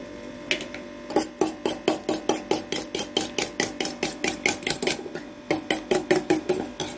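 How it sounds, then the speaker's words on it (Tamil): Egg being beaten into maida flour in a bowl for banana kachayam batter, a steady run of sharp rhythmic whisking taps, close and fairly loud, with a brief pause then resuming at the same brisk pace. "இந்த முட்டையை போட்டு நம்ம அதில் அடித்து நல்லா கலந்துக்கலாம்."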